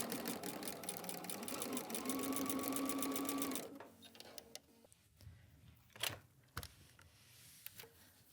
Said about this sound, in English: Let's go sew that together.